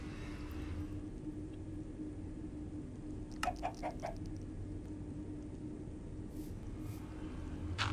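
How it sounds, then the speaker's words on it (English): A cactus chicken mob in a Minecraft modpack gives a short cluster of clucks around the middle, faint over a steady low background hum. "Oh, it's a cactus chicken."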